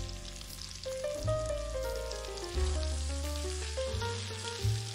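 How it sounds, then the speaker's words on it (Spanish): Chicken and peppers fry in a pan for a Spanish-style fritada, a soft, continuous sizzle lying under louder low tones that swell and fade. "freímos los pimientos por unos 15 minutos"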